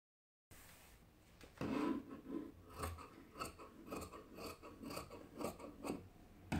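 Scissors cutting fabric for a skirt, a quiet series of rhythmic crunching snips at close range.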